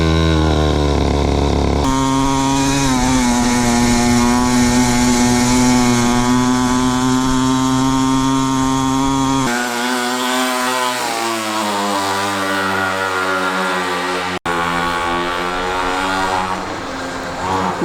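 Engine of a cheap $50 motorbike running loud and close, a harsh buzzing drone that shifts pitch as it revs up and down, with a brief dropout near the end.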